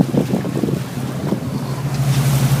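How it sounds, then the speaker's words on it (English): A boat motor runs on open water as a steady, low drone, mixed with gusting wind noise and the wash of water around the hull. "Quick, turn the motor off so I can cheat this."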